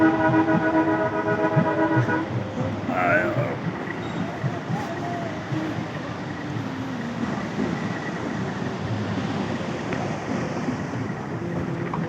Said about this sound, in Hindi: शौंटर नाला बहुत ही स्पीड पानी है इसकी